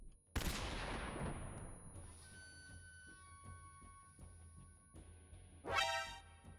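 A grenade battle in Metal Gear Solid 3 opens with a loud, close blast that decays into ringing debris, scattered gunfire and impacts, then a second sharp explosion near the end.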